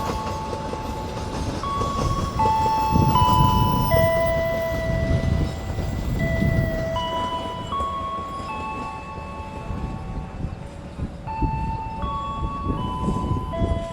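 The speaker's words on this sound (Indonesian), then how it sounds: "Kereta api Mataram dari stasiun Solo Balapan tujuan akhir Pasar Senen" An economy-class stainless steel passenger train rolls through a station, with steady rumbling wheels and rhythmic clickety-clack, plus high tonal squeals and a horn note above the loud, continuous running noise.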